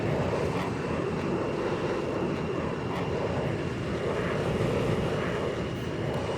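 Military jet climbing in the X-Plane 11 flight simulator, a loud, steady, unbroken engine roar that holds the same level from start to finish.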